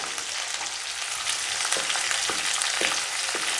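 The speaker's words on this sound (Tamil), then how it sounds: "இப்போ பாருங்கள், வெங்காயம் நல்லா ஓரளவு கலர் மாதிரி வதங்கிருச்சு" Onions sauté with asafoetida in a pan, making a strong, steady sizzle with a few rhythmic spatula scrapes through the second half.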